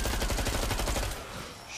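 Rapid automatic gunfire in the shooter game Killing Floor 2, a loud fast burst of shots in tight rhythm for about a second, then a short fading tail.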